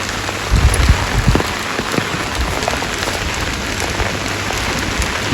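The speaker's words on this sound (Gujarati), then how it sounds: "જો આપણા ઘરોમાં ખાલી વરસાદ પડે છે" Rain pours steadily onto the houses on a wet day, a dense, even patter with a few louder drops near the start and no voices.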